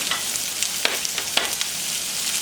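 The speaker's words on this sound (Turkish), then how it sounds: "Yağımızı ısındıktan sonra soğanı ekleyelim" Onion frying in hot oil for a baked fennel dish, a bright continuous sizzle with scattered sharp crackles and spatters close by.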